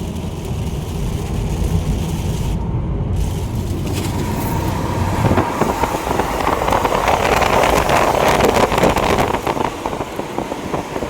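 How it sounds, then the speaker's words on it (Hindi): Heavy rain drums steadily on a car on the way through Jaipur. The dense hiss grows louder and rougher partway through and is mixed with a low road and engine rumble. "बहुत तेज बारिश हो रही है।"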